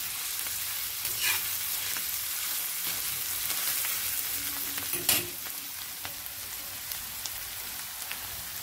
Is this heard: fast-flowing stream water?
no